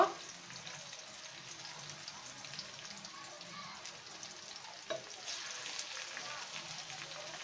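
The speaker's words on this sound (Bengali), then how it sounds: "আমরা পেঁয়াজটাকে একদম ব্রাউন করে বাদামি করে ভেজে নেব" Onions frying in hot oil in a pan until browned, a soft continuous sizzle with occasional stirring scrapes, quiet and close, and a voice speaking over parts of it.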